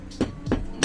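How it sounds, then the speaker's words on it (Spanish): Plastic wall plugs are hammered into holes drilled in a ceiling for a lamp installation. Three evenly spaced, solid knocks sound close and clear, with no talking. "Hay que martillarlos para que entre al fondo."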